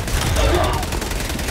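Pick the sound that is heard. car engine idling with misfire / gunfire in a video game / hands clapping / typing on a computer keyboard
gunfire in a video game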